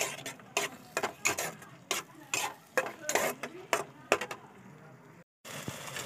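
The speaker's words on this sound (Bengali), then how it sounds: "এবার আমি একটা বাটিতে একটু টক দই ফেটিয়ে নিয়েছি, টক দইটা দিয়ে দেব। আবার ভালো করে নেড়ে দেব।" A spoon stirs beaten sour yogurt into a fish curry masala in a pan, making repeated scraping and clattering strokes with a faint sizzle underneath, up close.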